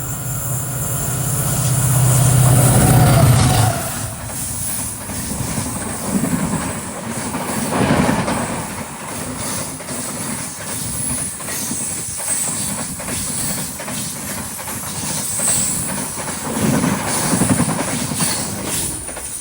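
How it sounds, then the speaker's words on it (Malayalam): The diesel-hauled Panchaganga Express runs on its Karwar–KSR Bengaluru route through coastal Karnataka, a loud close rumble with wheel clatter and hiss that peaks early and then holds as a steady rolling roar with periodic rail clicks. "കാർവാറിന്ന് KSR ബംഗളൂരിലേക്ക് വന്ന പഞ്ചഗംഗ ഇപ്പോൾ ഇതുവഴി കടന്നു വരും. ഡീസലാണ്."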